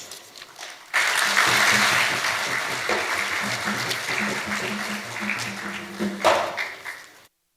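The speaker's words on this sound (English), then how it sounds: "Another warm round of applause for the Icao" Delegates applaud in a conference hall at an international air services negotiation meeting, a sudden burst of steady clapping that starts after a second, holds, then gradually thins and fades before stopping abruptly.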